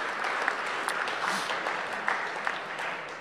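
An audience at an Italian beer guide presentation applauds steadily, a dense wash of hand claps with a few sharper individual claps standing out, moderately loud and sustained throughout without voices rising above it.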